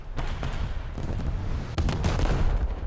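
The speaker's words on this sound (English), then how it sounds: "Just gonna wait for a full broadside." A battleship in World of Warships unleashing a full broadside, heavy booming gun reports in rapid succession with a rumbling, explosive low end, loud and close across a few seconds.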